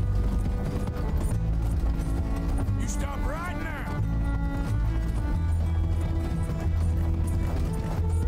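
A horse gallops in Red Dead Redemption 2, with steady rapid hoofbeats under a dense game soundtrack and a brief whinny partway through, in a chase behind a fast stagecoach.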